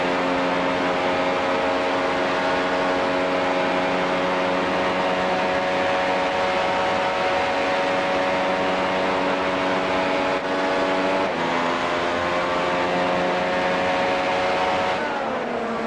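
A Formula 1 race car in the iRacing sim racing game, 2016 Indy road course Grand Prix, holds a loud, steady high-pitched engine whine throughout, with shifting harmonic tones and brief gear-change dips near the end.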